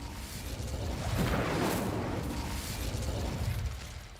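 Incendio fire spell cast in the Hogwarts Legacy video game, a sustained whooshing fiery burst that swells near the start and holds steady before fading, with no talking over it.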